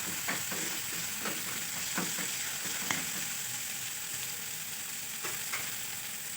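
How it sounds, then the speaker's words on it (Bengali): Onions fry in a pan with a continuous gentle sizzle, broken by scattered stirring scrapes and small pops, heard up close at low volume. "পেঁয়াজটা খুব ভালোভাবে ভেজে নিচ্ছি আমি"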